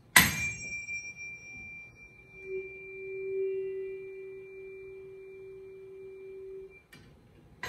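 A struck tuning fork held over a resonating air column in a pipe, a single pure steady tone that swells louder as it resonates, holds for several seconds, then cuts off, with faint clatter at the start and end.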